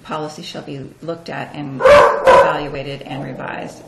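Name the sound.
dog barking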